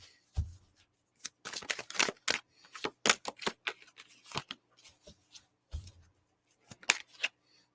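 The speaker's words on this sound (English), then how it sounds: "I'll give you a moment while I shuffle the cards." Tarot cards riffle and snap in quick, uneven bursts, crisp and close, with short pauses between shuffles and no voices.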